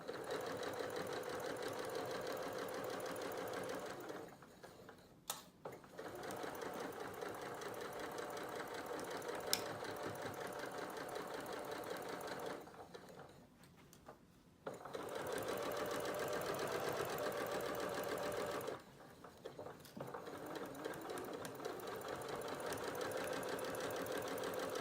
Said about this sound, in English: I'm going to just sew this nice gentle curve